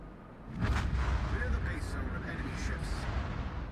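Naval gunfire in a World of Warships-style battle, heavy booming salvos rolling together into a dull continuous rumble, moderately loud and distant, with a voice talking over it.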